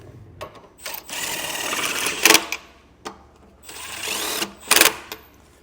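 A power tool snugs lug nuts onto a trailer axle idler hub, whirring in several runs that end in two sharp, loud bursts as the nuts seat, close by.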